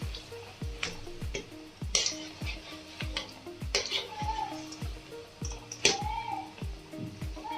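Sabbakki soppu pakoda deep frying in hot oil, with a steady crackling sizzle under a regular run of soft thuds from stirring or turning the fritters.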